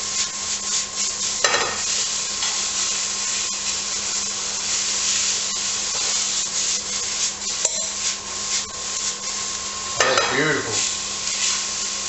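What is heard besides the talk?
stirring garlic and onions frying in a pot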